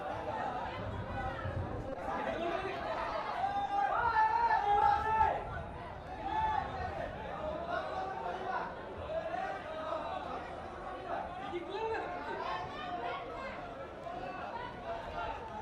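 A large crowd chatters and murmurs continuously at a semi-final football match in Odisha, a steady dense babble of many voices that swells briefly before settling back to an even hum.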